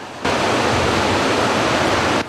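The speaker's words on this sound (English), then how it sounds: "That raging river made its way 9 miles downstream to Neely" The flooded Elkhorn River near Clearwater rushes with a loud, steady, broadband roar, continuous and close, with no voices over it.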